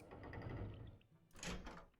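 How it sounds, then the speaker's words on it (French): A door in the video game To the Moon is unlocked with a key: a faint muffled rattle and thunk, then a brief brighter click-and-swing sound, quiet and alone. "Porte déverrouillée avec la clé."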